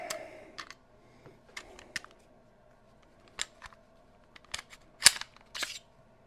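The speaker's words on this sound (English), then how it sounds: "Let's take the mag out first, big dummy." Clicks and metallic snaps as the magazine comes out of a Colt 1911 pistol with an aluminum frame, a scattered run of sharp close handling sounds with quiet gaps between them.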